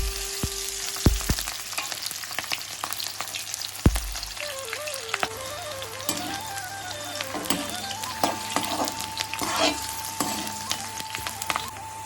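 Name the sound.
onions frying in a hot wok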